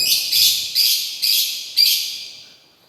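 Caged bird chattering insistently indoors at a house, a run of five bright, scratchy call bursts in quick succession, close and fairly loud, fading at the end.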